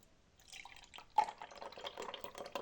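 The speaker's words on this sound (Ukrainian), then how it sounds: "Ось прошлий сок, зараз я буду його наливати." Pulpy apple juice pours and drips into a container in short uneven splashes, close and fairly quiet, with no voices.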